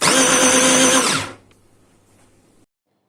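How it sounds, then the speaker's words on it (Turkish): A food processor whirs loudly and steadily while grinding diet cake batter with cinnamon and oil, then cuts off abruptly and spins down into near silence. "Tüm malzemelerimiz birbirine karışana kadar öğütelim. Robotu çekiyoruz."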